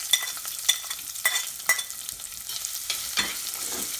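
Chopped small shallots sautéing in oil in a pan for a clam stir fry, with a continuous sizzle broken by several sharp spoon scrapes and stirring strokes at close range.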